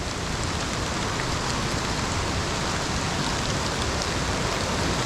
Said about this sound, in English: It's been raining the entire time.